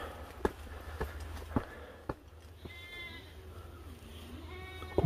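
Goats bleating outdoors on Kohama Island, Okinawa, with several wavering calls from moderate distance over quiet ambient background and a few light knocks or footsteps.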